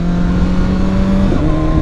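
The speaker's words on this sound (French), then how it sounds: "On peut envoyer des petits coups de shifter, regardez." A BMW S1000RR motorcycle at night with cold tyres and the engine at 67 degrees makes a loud, close, tonal engine note, with a quick dip and recovery near the end as the quickshifter snaps through an upshift.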